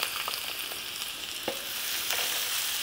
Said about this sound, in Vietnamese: Mỡ cũng sôi rồi mình cho hết hành tỏi băm vô.